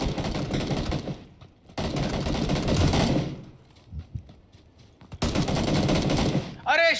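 Rapid gunfire from a PUBG match, loud bursts in several volleys with brief pauses between, set against game noise and voices chattering over the fighting.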